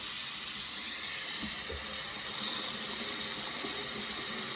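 A shower runs with strong pressure, a loud, constant rushing hiss of water that stays unbroken from start to finish, with no talk over it.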